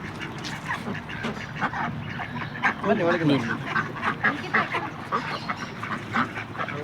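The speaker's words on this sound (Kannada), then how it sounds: "ಎಲ್ಲಕ್ಕಿಂತ ಫನ್ನಿ ಅದೇ ಕಾಲ್ ಡಕ್." Call ducks quacking at a theme park, a busy run of loud, repeated nasal quacks close by, with a person speaking over them and other birds and background chatter mixed in.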